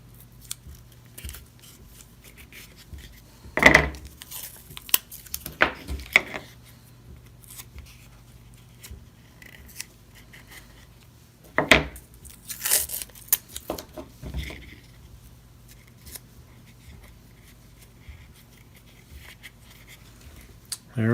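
Tape rips in a few short, sharp bursts while parts of a handmade stringed instrument's peg box and neck are taped and clamped together, separated by long quiet stretches with faint handling noises.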